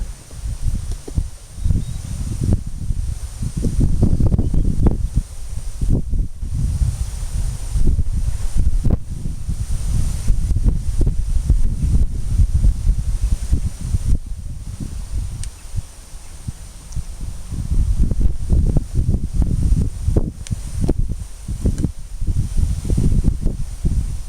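Wind blows steadily outdoors at an air rifle range, a continuous low rumbling buffet with microphone gusts and rustling that swells and eases throughout, loud and close.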